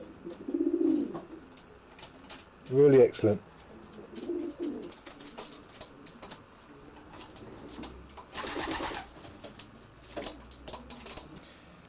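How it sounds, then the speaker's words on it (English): Racing pigeons inside a light-blue painted loft give soft, low repeated coos in short bursts, with wing flutters and scuffling, while someone talks briefly nearby. "I must say the pigeons look very comfortable"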